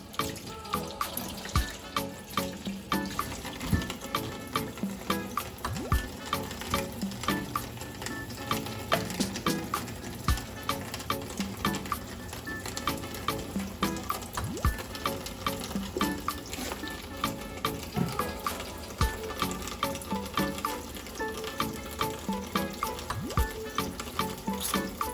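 Cold tap water runs steadily over pork ribs and chicken wings being rinsed in a kitchen sink. The splashing continues throughout, with small irregular clatters as the meat is handled, and nobody speaks.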